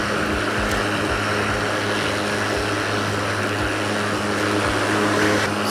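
A SKIL battery-powered lawn mower runs steadily with a smooth, even electric motor whir and blade hum, constant and fairly close with no talking.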